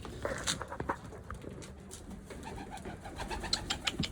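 Pigeons in a coop cooing softly, low murmuring calls overlapping at close range, with faint rustles and scattered small sounds, and no talk.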